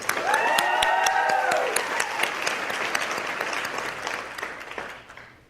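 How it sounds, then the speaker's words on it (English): A luncheon crowd applauds the employee-of-the-year nominees and physician candidates, with a brief whistle and cheer rising early before the clapping tapers off toward the end. "Ladies and gentlemen, one more large round of applause, if you don't mind, for our nominees and physician candidates"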